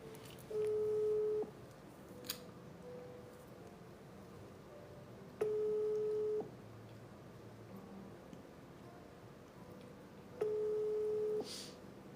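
A telephone ringback tone while calling someone back: three evenly spaced, steady tone bursts about five seconds apart, each lasting roughly a second, over faint background hiss.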